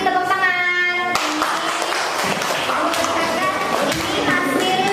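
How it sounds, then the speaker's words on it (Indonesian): Pupils in a primary school classroom burst into a round of applause, a dense, lively clatter of many hands lasting several seconds, following a teacher's voice and mixed with children's chatter. "Terima kasih, tepuk tangan."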